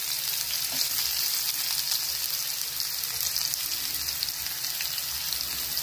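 Onions frying in a pan give a steady, close hiss and crackle of sizzling oil with faint stirring scrapes, continuing evenly without speech.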